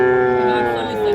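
A Friesian or crossbred bull calf at the Raniganj cattle market gives a loud, close, sustained moo that fills the whole moment.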